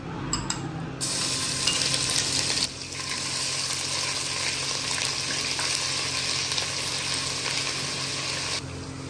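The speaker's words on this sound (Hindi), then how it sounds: "ऑयल गर्म हो चुका है। इसमें 1 टेबल स्पून अदरक लहसुन का फ्रेश पेस्ट ऐड कर देंगे।" Fresh ginger garlic paste drops into hot oil, giving a steady hissing sizzle that holds at moderate loudness, close up with no talk.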